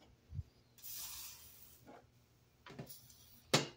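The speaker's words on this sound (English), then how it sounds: "We'll spray our fitting with some WD-40 and our hose in there." WD-40 sprayed onto a hose fitting while working on a 1970 Ford Torino, heard as a short airy hiss around one second, followed by a few handling knocks and a sharp final burst.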